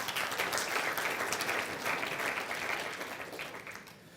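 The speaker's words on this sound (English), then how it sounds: "give me a round of applause for that" A room full of people applauds warmly, dense clapping that holds steady and then tapers off toward the end.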